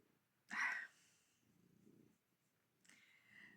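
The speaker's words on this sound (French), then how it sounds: "c'est le chat de mon père" A house cat purrs very faintly in low, rumbling pulses at close range in a quiet room, with one brief sharper sound near the start.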